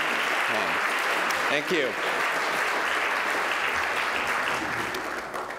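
An audience at a literary award ceremony applauds warmly, dense steady clapping for several seconds that slowly tapers, while a voice speaks briefly near the start.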